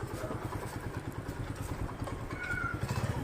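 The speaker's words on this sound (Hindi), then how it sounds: "मोटरसाइकिल।" A motorcycle engine runs nearby with a steady, throbbing rhythmic pulse and some mechanical clatter, rising slightly toward the end, with no talk over it.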